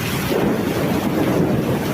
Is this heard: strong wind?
yes